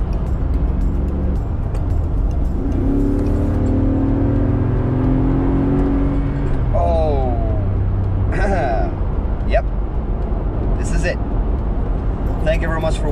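A blacked-out 2013 Mercedes G63 AMG's engine rumbles loud and close under steady talk, swelling into a drawn-out rev midway before settling back to a deep idle.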